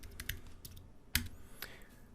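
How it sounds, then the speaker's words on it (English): Clicky typing on a computer keyboard, scattered keystrokes with one sharper tap, close but fairly quiet with no talking. "he's just typing classes in"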